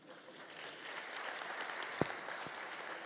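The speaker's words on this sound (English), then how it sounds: "A round of applause for the ladies." Audience applause after a dance performance at a startup conversation event, a soft, distant, even patter of many hands with a couple of sharper knocks partway through.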